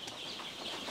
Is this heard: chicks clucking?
yes